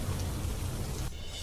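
Heavy downpour during flooding in Chhattisgarh as rivers swell, a steady dense hiss of rain with a low rumbling undertone that thins out abruptly near the end, with no voices.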